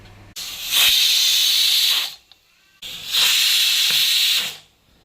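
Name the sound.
pressure cooker whistle releasing steam while cooking liver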